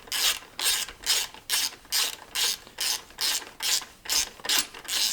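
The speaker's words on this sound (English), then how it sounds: "we'll just put our mounting bolts back in, being careful not to scratch the radiator fins" A ratchet clicks in steady repeated bursts, about ten strokes of even rhythm, up close while mounting bolts are snugged beside a bike's radiator fins.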